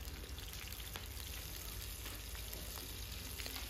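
Green chillies and urad dal fry in hot oil in a kadai, giving a steady, dense sizzle with crackling pops throughout, close and continuous with no voices.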